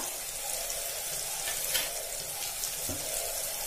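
Steady close sizzling of tomato masala frying with turmeric, chili powder and garam masala for chicken kothu parotta, a continuous hissing crackle with a faint stir or two, no voices.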